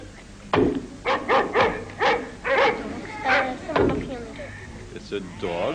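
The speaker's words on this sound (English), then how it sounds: "It's a dog." A domesticated dog barks repeatedly and close by, a string of about eight sharp barks with short gaps, ending in a softer whine-like yip.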